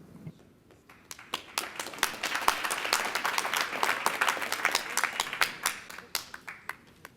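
Audience applause at a public advisory group meeting, a dense wash of many hands clapping that swells and holds steadily for several seconds before thinning out slightly near the end.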